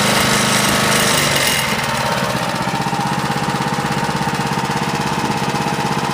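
A lawn mower engine idles steadily, a loud, close, rough rhythmic chugging after a brief higher burst at the start, with no talking.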